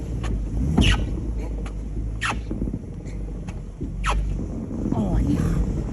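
A FedEx truck's engine roars and drones as its wheels spin without traction in deep snow, a continuous low rumble with scattered crunches and clicks, while people nearby talk.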